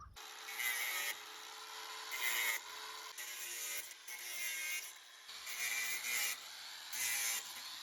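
An angle grinder cuts through fence wire. The abrasive whine and rasp comes in repeated bursts of about a second each as the disc bites into the wire, loud and close, with no talking.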